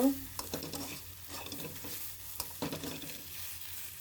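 Potato filling is stirred in a hot frying pan, a spatula scraping repeatedly through a soft sizzle, with a clatter at the start and no one talking.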